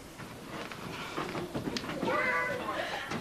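A domestic cat gives a drawn-out meow near the end, close and fairly clear, over indoor room noise with a voice talking.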